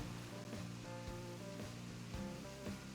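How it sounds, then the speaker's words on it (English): A loud waterfall pours on an island in a video game, a steady, dense roar of rushing water with faint tonal game music layered beneath, filling the whole moment. "sorry for the loud waterfall"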